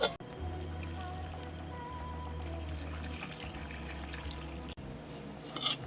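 Beef broth pouring into a Dutch oven, a steady faint liquid stream running for several seconds with a brief break, close and alone.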